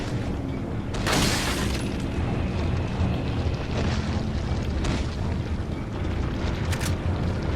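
A loud rocket-launcher explosion bursts early in Resident Evil 4, followed by rumbling debris and scattered crashes and impacts under a steady noisy background.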